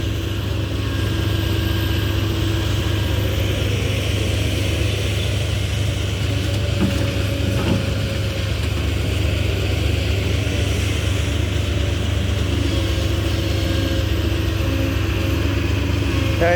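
A dump truck's engine runs steadily through a dented exhaust pipe, giving a continuous rough, throaty drone that stays loud and close for the whole stretch without a pause.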